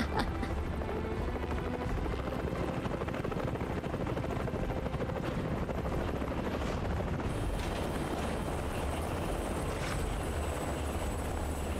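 Rufus's helicopter in Final Fantasy VII Rebirth makes a continuous, loud, dense rotor and engine roar that holds steady throughout, with a thin high tone entering partway through.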